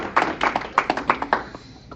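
A small audience at a town hall meeting in an American Legion hall gives a brief round of clapping: a handful of distinct, fairly close hand claps in quick irregular succession that thin out and fade after about a second and a half.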